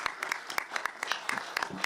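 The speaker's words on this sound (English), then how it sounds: "That deserves an applause." At a Board of Education meeting, a modest audience gives a student a short burst of applause, made of scattered, uneven claps in a room.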